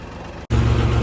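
A tractor engine runs at a house construction site with a steady, close rumbling drone that drops out for an instant and then returns louder.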